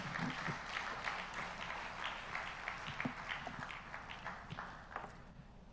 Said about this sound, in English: please a round of applause for Kofi